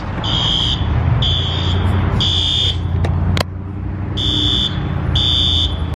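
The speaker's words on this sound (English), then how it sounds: "You gotta love fire alarms. Even after getting the coffee, it's still going off." A repeating fire alarm beeps in steady bursts, about five pulses, over a constant low rumble of traffic or engine noise.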